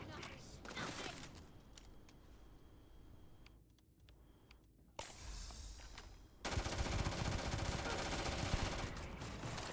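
Powerful gun fired in Starfield, a video game, with bursts of rapid shots early on and a dense, loud stream of fire through the second half, with faint game sounds between volleys.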